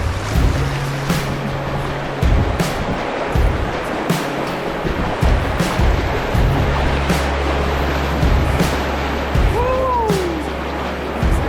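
River rapids on the River Spey rushing and splashing loudly around a small packraft, a dense continuous roar of churning water close by with bumps and knocks from the boat.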